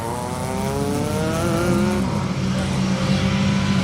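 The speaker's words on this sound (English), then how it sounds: "Engine is running." Rally car at the Brands Hatch Stages event idling and running steadily with a deep, rumbling engine note and harmonic whine, close and loud throughout with no pauses.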